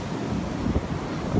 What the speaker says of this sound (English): Whoa, these waves are huge.